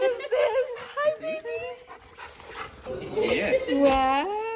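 Large dog whimpering and giving short high yips in a busy shop setting, several rising whines scattered through, close and clear, mixed with people talking excitedly over it.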